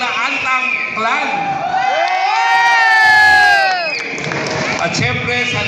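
A family reunion crowd in Imus, Cavite erupts in loud cheering, shouts and children's high-pitched whoops, rising to a sustained peak of yelling before easing, with voices overlapping throughout.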